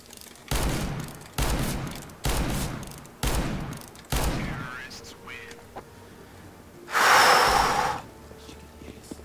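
Rapid bursts of gunfire from the video game CS:GO, fired on the Cache map: four or five loud, evenly spaced volleys with short gaps between them, then a brighter hissing burst near the end.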